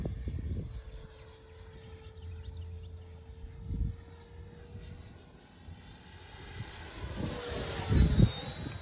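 A Freewing T-33 semi-scale RC model jet passes overhead at about half throttle on a windy day, a steady distant whine rising to a louder pass near the end.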